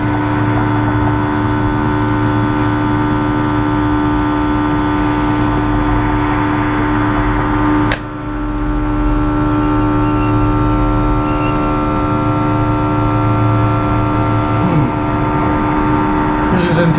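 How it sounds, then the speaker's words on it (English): A vacuum sealer runs with a steady loud motor hum while sucking air from a bag, broken by a sharp click and momentary dip before the drone continues. "It's sealing, it's looking at just sucking all that air out of there."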